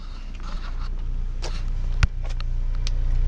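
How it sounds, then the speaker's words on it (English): Inside a car, the window and air conditioning make a steady low rumble and hiss, broken by faint rattles and one sharp click. "The window makes noise. The air conditioning's making noise."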